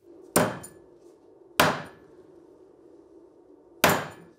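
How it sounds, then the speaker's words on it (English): A hammer strikes a piece of hafnium metal to straighten it: three sharp, ringing blows at irregular intervals, each decaying quickly into near quiet, with no talk. "so he needed to use a hammer"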